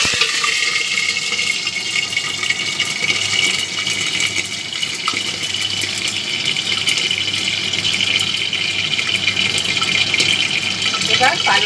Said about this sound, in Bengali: এবার তেলের মধ্যে আমি কাঁচা লঙ্কাটা দিয়ে দিচ্ছি।